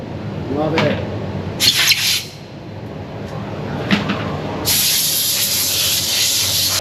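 Bursts of mold release spray hiss inside a forged carbon binding factory in Italy: a short spray burst early on, then a longer steady hiss at the end, over workshop background noise.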